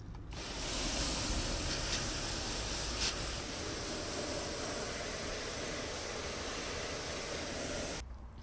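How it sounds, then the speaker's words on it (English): Steady broadband hiss of water draining out of a HOTBIN composter after hosing, continuous and fairly even for about eight seconds before cutting off. "So the water's draining out nicely and we're getting there."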